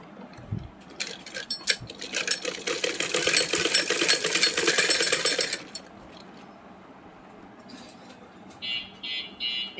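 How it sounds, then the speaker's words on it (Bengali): A sewing machine stitches lace onto a kameez, a steady rapid mechanical whirr running for several seconds before stopping, followed by quieter handling sounds and a few faint clicks. "তো আমি এভাবে সেলাই করব, লেসটা লাগাবো"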